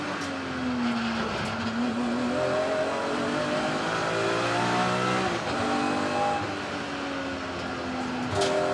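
Dense race-car noise from a BMW championship race at Snetterton, with several engines howling and shifting pitch together and tyres squealing, a loud, continuous roar of close traffic.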